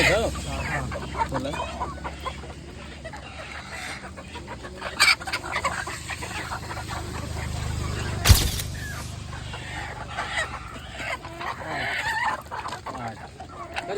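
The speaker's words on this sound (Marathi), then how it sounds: "त्याच्यामध्ये बघा अशा कोंबड्या आणल्या जातात" Chickens cluck and chatter steadily nearby, with an occasional sharp louder call, over a busy outdoor background with faint voices.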